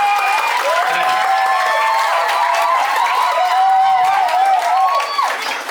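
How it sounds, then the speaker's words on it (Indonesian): Students and audience at a One Day English and Character Camp in Pamulang, clapping amid loud cheering and shouting voices, a dense continuous crowd noise with high voices dominating. "Boleh tepuk tangan buat siswa-siswi Pamulang."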